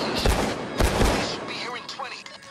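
Steakout 12g shotgun blasts from Payday 2 go off in quick succession, with heavy booming reports in the first second and lighter shots and clatter after, all close and loud.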